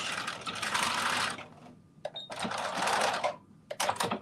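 A sewing machine runs a short back stitch in two quick whirring bursts separated by a brief pause, with sharp clicks in between, close by and with no talk.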